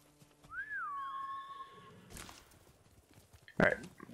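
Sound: horse riding in video game Ghost of Tsushima

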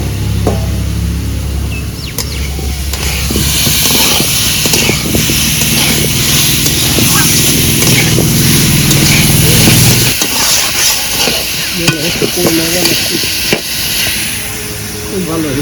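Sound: potatoes sautéed in spice paste in a pan

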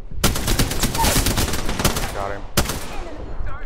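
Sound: gunfire in the video game Apex Legends

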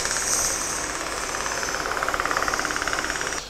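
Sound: rotary sander sanding wood

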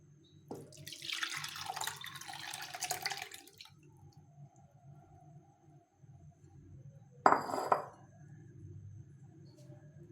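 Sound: pouring milk into a container

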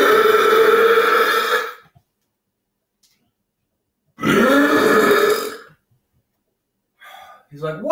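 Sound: loud belching after ramen and eggs

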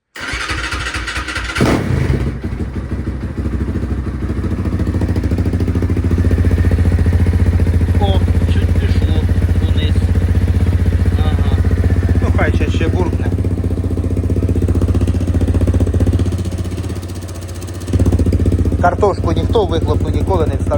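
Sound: MTZ-80 tractor engine starting and running

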